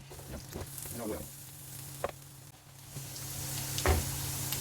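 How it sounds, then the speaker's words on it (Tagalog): Potatoes stir-fry in hot olive oil in a pan for chicken caldereta. A steady close sizzle is broken by a few scraping stir strokes, with no talk over it. "First, stir fry muna natin yung ating patatas."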